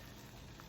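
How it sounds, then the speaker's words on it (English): Water boils in a pot waiting for green beans, a dense, faint bubbling rumble that stays steady and continuous with no voices. "the water is now boiling"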